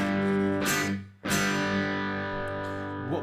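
Electric guitar through an amplifier with the bass control at full, giving a boomy, distorted sustained tone; two strummed chords ring out, with a brief dip between them.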